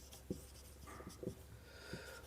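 A pen scratches across exam paper in short, quiet strokes, with several soft taps and scrapes in a hushed room.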